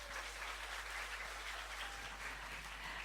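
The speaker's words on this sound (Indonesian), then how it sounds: "Berikan tepuk tangan untuk Tuhan" Children at a church kids' camp opening ceremony applaud in praise of God, a continuous crowd of clapping that sounds somewhat distant and even, with a steady low hum underneath.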